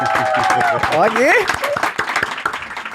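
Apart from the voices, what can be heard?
studio audience applause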